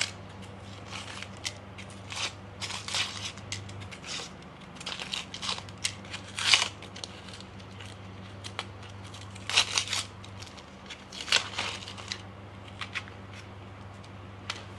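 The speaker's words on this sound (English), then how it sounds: "an Indian shallot, but we're gonna peel the outside first" Outer skin being peeled off an Indian shallot by hand for a Thai beef massaman curry, with close crisp crackles and papery tearing bursts over a steady low hum.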